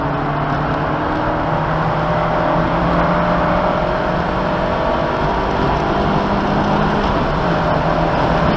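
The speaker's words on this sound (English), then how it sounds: "Hard on the gas." A car accelerating hard on the gas, a loud, close, sustained engine roar with rising tones, droning continuously without a break.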